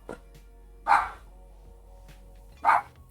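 A dog barks twice in the background, two short separate barks about a second and a half apart, fairly distinct against a quiet room with no talking.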